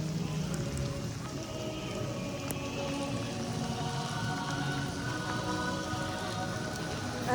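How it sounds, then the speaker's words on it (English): Heavy, steady rain pours down outdoors on a freezing day at a Christmas market in Edinburgh, a constant close hiss of drops on hard surfaces with no speech. "It's still pissing it down and it's still freezing."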